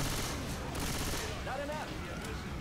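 Dense, continuous gunfire in Left 4 Dead 2 as a zombie is shot, with rapid overlapping shots filling the whole stretch and a brief tonal sound rising partway through.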